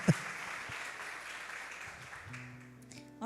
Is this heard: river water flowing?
no